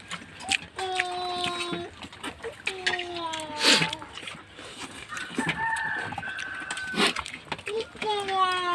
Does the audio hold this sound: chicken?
yes